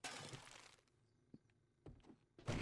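Glass objects smashed apart in the survival game 7 Days To Die, a loud burst of shattering followed by quieter sparse clunks and two short impacts, then another heavy crash at the end.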